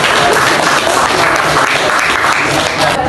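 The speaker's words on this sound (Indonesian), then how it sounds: "beri tepuk tangan dulu untuk kelompok" Steady, loud applause from a classroom audience for a student group after their presentation, dense clapping that holds evenly throughout.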